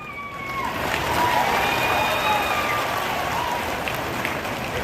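Sustained applause fills the gathering at the launch of the Indiramma housing scheme, a dense, steady clatter of many hands with a murmur of crowd beneath, holding level throughout.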